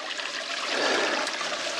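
Creek water flows along a mountain creek course on Mt Perry in Queensland's Scenic Rim, a close, steady rushing trickle that swells slightly midway and keeps on without pause, with no talk.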